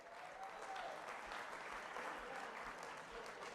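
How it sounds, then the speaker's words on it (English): A crowd at a North Texas athletics celebration applauds long-time season ticket holders. The clapping is steady and continuous but sounds faint and distant, with low murmurs underneath. "Let's give them a round of applause."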